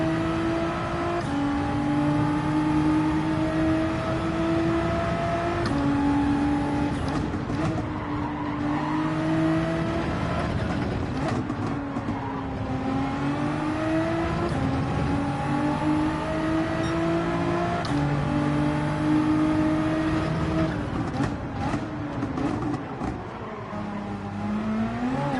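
Race car engine in a racing video game at Suzuka, a loud continuous whine that repeatedly climbs in pitch under acceleration and drops at each gear change, with no talk.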